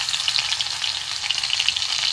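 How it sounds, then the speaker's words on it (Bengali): Chopped garlic hitting a little hot oil in a wok gives a bright, even, close sizzle that stays steady throughout with no speech. "কড়াই বসিয়ে দিয়ে অল্প তেল দিয়েছি দিয়ে আমি এখানে রসুন কুচি আছে রসুন কুচিটা দিয়ে দেবো"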